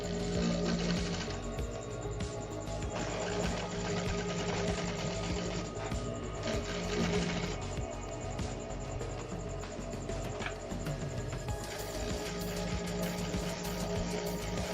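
An industrial sewing machine stitches a second seam along a jeans waistband, a fast, dense mechanical chatter running continuously up close with slight shifts in pace.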